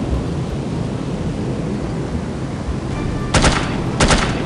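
Gunfire in the game No One Lives Forever during a skydiving mission, two short, sharp bursts of automatic fire cutting through a constant loud rush of wind.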